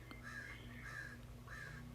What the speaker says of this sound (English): our friend Crow really wanted to be part of the video